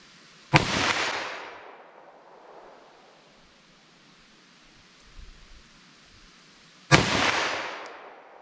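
Two sharp handgun shots, from 9mm and .357 Magnum pistols fired outdoors at a target 75 yards away, sound about six seconds apart, each a loud crack followed by a long echoing decay.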